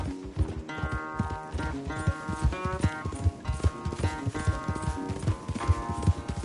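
A horse gallops at race pace in a video game, its rapid hoofbeats loud and close in a steady rolling rhythm, backed by music, with no talk over it.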